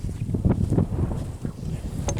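Gusty wind buffets the microphone at an outdoor shooting range, rising and falling in uneven rumbling bursts throughout.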